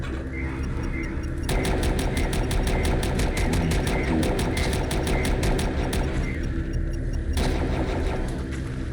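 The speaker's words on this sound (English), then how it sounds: "So that is the sound of my dragon claw." Dragon claw weapon firing in the video game Heretic, a rapid loud stream of evenly spaced crackling shots over a heavy continuous roar, running for several seconds with a short break before resuming.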